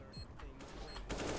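Gunfire in CS:GO, a quick run of sharp shots in bursts that stands out over background game noise, fairly quiet overall and close.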